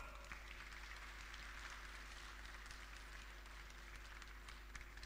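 A crowd applauds the deputy mayor of Ursynów at the opening of Video Arena Ursynów 2015. The clapping is faint and steady, a distant even wash that lasts throughout.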